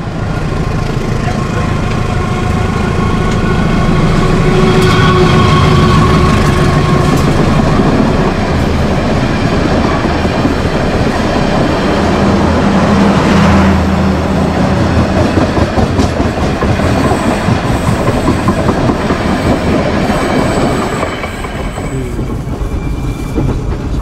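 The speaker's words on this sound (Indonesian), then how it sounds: "Silang lagi nih sama kereta api Kuto Jaya Selatan dari Kiara Condong tujuan" A passenger train runs on the rails between Bumi Waluya and Leles stations in Indonesia as it passes the Kutojaya Selatan train, with a loud, close rumble and rhythmic wheel clatter throughout and a faint high squeal late on.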